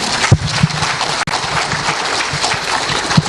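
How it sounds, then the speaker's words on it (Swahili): Steady round of applause from a crowd of comrades at a UDA party endorsement rally in Mombasa, dense and continuous throughout, with a few sharper claps and faint shouts standing out. "Can we give them a proper round of applause?"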